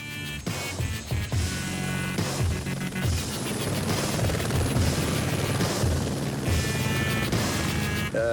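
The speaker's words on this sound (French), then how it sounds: "Philippe Delquier, pompier cadre d'hélicoptère bombardier d'eau, n'a que le temps de rejoindre le pilote dans son appareil pour aller faire des largages sur l'incendie" Loud, steady water-bombing helicopter rotor thrum close by during a Provence wildfire, with heavy turbine whine and low rumble running continuously throughout.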